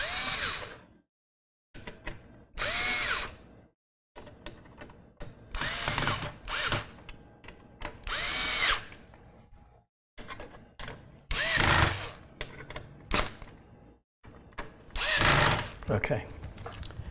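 Power drill whirring in repeated short bursts while driving screws into an NZXT PC case during a build, stopping and starting about ten times, close and fairly loud, with someone talking between bursts.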